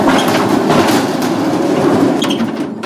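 A small rail cart rolls along a 105-metre heritage track built on a former railway line in the Šumava region, giving a continuous close rumbling clatter of wheels on rail that eases slightly at the end.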